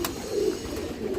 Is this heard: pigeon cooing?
yes